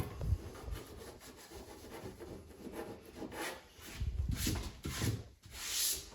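A fingertip rubs along a freshly smoothed sealant bead on an old kitchen fitting, soft repeated swishing strokes, close and faint, with no talk.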